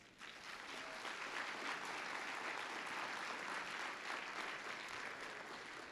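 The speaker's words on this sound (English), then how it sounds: "So cadets, give all of them a round of applause." Steady audience applause for cadets at a JROTC national championship awards ceremony: a broad wash of many hands clapping, swelling in quickly and holding evenly for several seconds, moderately distant in a large hall.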